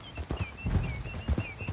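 Horse hooves clip-clopping in the Red Dead Redemption 2 video game, a quick, fairly close run of uneven hoofbeats, with a faint high whistling tone drifting in the background.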